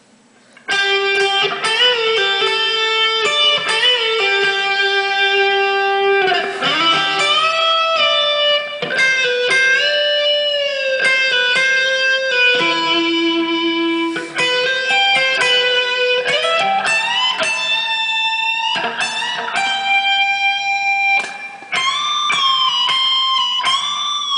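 A distorted electric guitar plays a solo, a continuous melodic lead with bends and sustained notes, loud and up close, with no other instruments or voices.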